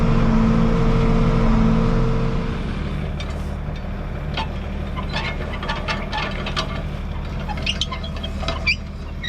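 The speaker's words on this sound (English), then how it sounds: "so I guess I'm gonna bale alone here until my brother gets done with my nephew over there" Tractor pulling a baler through oat straw, a steady low engine drone with rattling and clicking mechanical knocks from the baler, moderately close and continuous, no talk.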